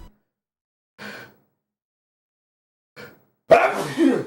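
Two faint breathy intakes a couple of seconds apart, then a sudden loud sneeze up close while playing DuckTales: Remastered.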